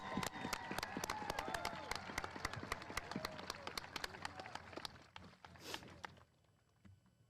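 A crowd applauds teachers at a 2021 high school graduation ceremony, many sharp claps blending into a broad, moderately distant ovation that thins out and fades over the last couple of seconds.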